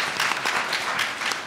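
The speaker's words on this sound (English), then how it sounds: "So a round of applause for Society of Illustrators." A comics panel audience claps for the Society of Illustrators, a brief burst of steady, fairly loud applause with no talking.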